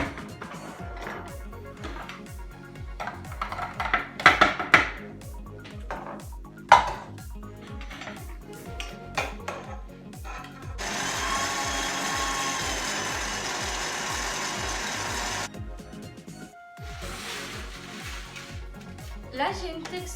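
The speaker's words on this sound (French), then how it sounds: "Donc je vais rehacher, comme je l'ai dit, mes blettes une seconde fois" Knife chopping Swiss chard on a board for the second time, a series of quick rhythmic close knocks with pauses, a stretch of steadier scraping or whirring noise in the middle, and a voice talking over much of it.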